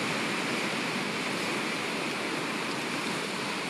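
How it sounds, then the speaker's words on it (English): Ocean waves rolling in and washing back out, a loud, continuous broadband surf roar that stays steady without clear breaks, with no voices over it. "breathe in the sound of the waves. Feel into the waves, how they roll in, and the tide pulls it back out"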